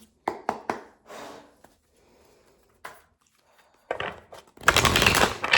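Tarot cards tapped and riffled together, a few crisp slaps followed by a louder fluttering shuffle at the end, close up.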